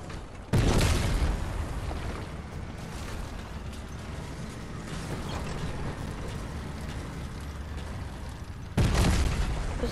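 Fortnite's Tilted Towers buildings blowing apart: a heavy boom opens into a long, dense rumble of collapsing debris and grinding destruction, then a second loud blast erupts near the end.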